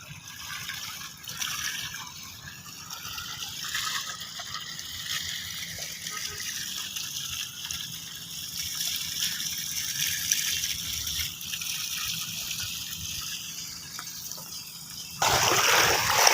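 Water gushes steadily and forcefully from a pump for a long stretch, with a constant rushing flow that grows louder and harsher near the end.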